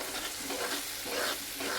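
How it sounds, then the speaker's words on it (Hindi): Hot oil sizzles and crackles in a pressure cooker as spices hit it for tempering, a steady frying hiss with small bursts, close and fairly quiet. "और ये इसका तड़का लग रहा है"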